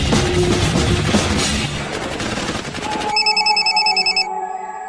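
A telephone ringing as someone calls the boss in a Hindi action film, a steady electronic ring tone following noisy action sounds, with the ringing pattern clear near the end.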